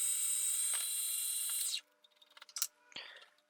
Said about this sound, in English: We're going 30mm deep with a 1/4 inch drill bit for this first step.